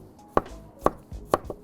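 A knife chops a thumb-sized piece of ginger on a board in a home kitchen, three sharp, evenly spaced thuds close up with a softer tap between, no talk.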